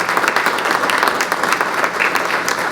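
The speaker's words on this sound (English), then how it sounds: "Let's give these incredible students a round of applause." A dense, steady round of applause from an audience at a Poetry Out Loud student recitation event, many hands clapping together at close range, with little talking underneath.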